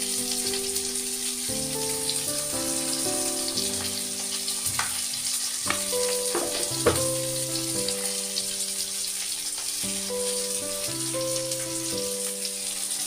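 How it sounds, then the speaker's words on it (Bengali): Rohu fish pieces frying in a pan, a constant bright sizzle heard close and alone under light background music. "আর আমার মাছ ভাজাও প্রায় হয়ে গেছে।"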